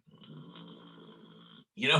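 A person imitates a growling snore like King Kong, a rough, rumbling drawn-out vocal growl that ends abruptly, followed by a brief loud burst of voice.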